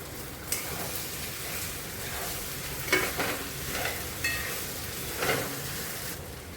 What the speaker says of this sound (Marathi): आपण आता साबुदाणा घालून घेऊ पहिले, म्हणजे साबुदाणा नेहमीप्रमाणे मोकळा व्हायला मदत होईल